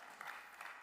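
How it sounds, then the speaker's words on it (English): Brief, faint round of applause from a small group during a talk about the emotion of disgust, a soft patter of clapping lasting under a second. "round of applause"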